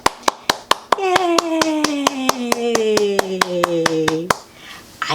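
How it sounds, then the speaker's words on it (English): A steady run of about eighteen sharp hand claps, evenly spaced and close, with a sustained sung or hummed voice running under the middle of the sequence after a read-aloud of a children's book. "Can you clap with me? Let's clap."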